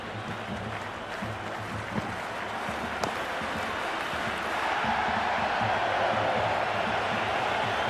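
A stadium crowd in the Cricket 26 video game roars and applauds, a steady wash of broad noise that swells louder about halfway through.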